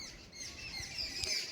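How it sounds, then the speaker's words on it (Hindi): Small birds chirp and tweet in a high, thin chorus, moderately near, with steady faint background noise and no talking. "तो आप सुन सकते हो चिड़िया की आवाज़।"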